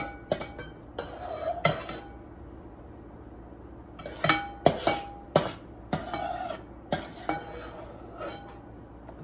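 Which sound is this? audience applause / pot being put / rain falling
pot being put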